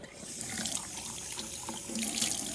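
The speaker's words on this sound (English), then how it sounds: "And then I do need to rinse out my container of water" Steady running water at a sink as a paint-water container used with tempera cakes is rinsed out, a continuous close splashing flow throughout.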